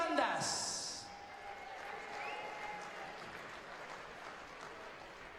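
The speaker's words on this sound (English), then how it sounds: "I'm sure you're going to give a round of applause for Scotland's Anthony Dundas" A large audience applauds as Scotland's referee Anthony Dundas is brought onto stage, a steady wash of clapping that fills the whole stretch at an even, moderate level after a brief brighter burst at the start.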